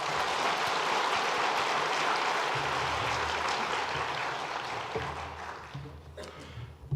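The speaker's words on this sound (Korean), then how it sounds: "잠깐 자리에서 일어나시면 우리 큰 박수로 환영하겠습니다." A church congregation claps loudly to welcome newcomers at a Sunday service, a dense burst of applause that gradually thins and fades toward the end while a low hum rises underneath.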